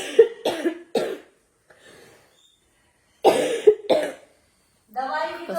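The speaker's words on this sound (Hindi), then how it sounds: "खांसी में तो मेरा बहुत ज्यादा बुरा हाल है" A woman has a bad cough and gives several harsh bursts of two or three coughs each, close to the mic. A quiet gap falls between the bursts, and throaty voice sounds come at the end.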